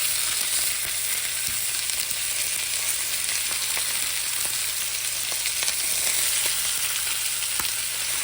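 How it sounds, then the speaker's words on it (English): Seasoned country-style beef ribs sizzle in a hot skillet, giving a loud, dense, continuous frying hiss with scattered small pops and crackles throughout. "So these are just going right into this hot skillet."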